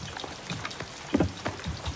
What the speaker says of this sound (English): With the rain falling in the backyard like that, it just looks so peaceful.